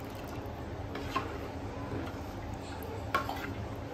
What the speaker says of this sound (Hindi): पकाना है हमें इसे, कंटिन्यूअसली स्टर करते रहना है।